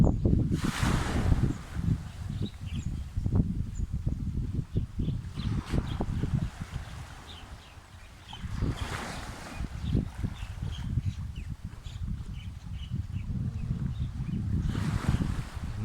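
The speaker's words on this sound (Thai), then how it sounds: "ลมแรงมากนะวันนี้" Strong wind buffets the microphone on a Thai seaside shore with an offshore breeze, roaring in gusts with a steady low rumble and occasional higher rushes, loud and continuous with no voices.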